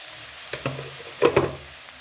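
Tomatoes with dried coriander, red chilli powder, whole chillies and turmeric frying for a potato and capsicum curry, a soft steady sizzle with a handful of clustered spoon knocks and scrapes against the pan.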